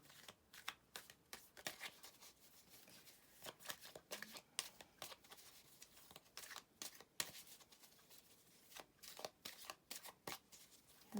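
Rapid, continuous riffling and flicking of tarot cards being shuffled nearby, crisp papery bursts repeating steadily with no talking.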